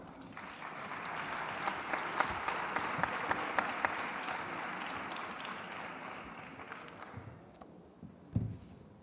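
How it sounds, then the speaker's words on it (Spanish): An audience claps through a nighttime fair opening speech in honour of Our Lady of Mercy: sustained, moderately distant applause with a few louder individual claps, thinning toward the end with a brief knock. "¡Un aplauso!"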